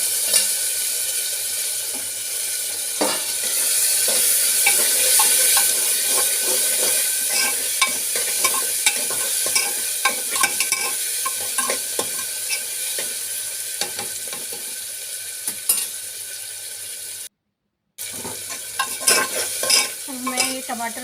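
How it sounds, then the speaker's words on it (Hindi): Chopped tomatoes frying in a pan with onion and garlic, a steady close sizzle with repeated stirring scrapes throughout and a brief gap near the end. "अब हमें ये टमाटर गलने तक अच्छे से फ्राई करने हैं"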